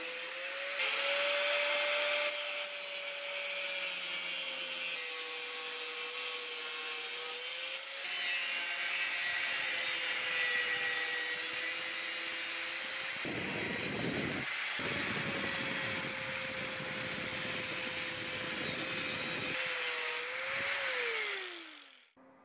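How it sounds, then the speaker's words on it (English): An angle grinder with a thin cutting disc cuts 1.5mm steel plate, a loud, continuous high-pitched whine and gritty screech that holds steady for about twenty seconds, with brief dips as the cut changes, then winds down at the end. "I use a thin cutting disc on the angle grinder to cut them out."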